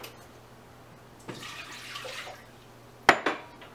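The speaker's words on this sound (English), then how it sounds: "So we need to take 2 cups of water" Water is poured into a pot in a kitchen as a brief, rushing splash lasting about a second, followed by a sharp metallic clank of cookware, all fairly quiet against a low background hum.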